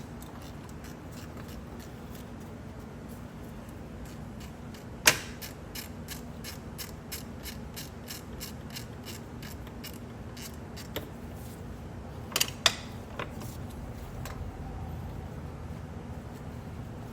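A reverse torque E12 socket loosens a long belt tensioner bolt on a BMW engine, giving a sharp creak and a few crisp ratcheting clicks over a quiet, steady background with no talking.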